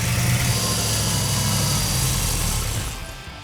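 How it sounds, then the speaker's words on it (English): A small engine on an engine run stand runs at a steady idle with a low, throbbing rumble, close by, then fades and dies away at the end as it runs out of gas. "this little engine had to be ran on the engine run stand before we could install it in the car"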